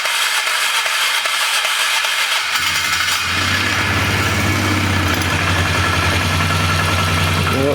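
A flood-damaged Polaris 325 ATV engine cranks and catches, then settles into a steady, loud idle close by after a short starting burst.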